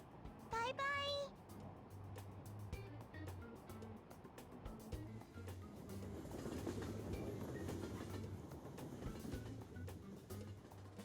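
A passenger train runs through the Shibuya area in Persona 5 Royal, its wheels giving a low rhythmic clickety-clack and rumble that swells midway, with a brief chime near the start and faint voices.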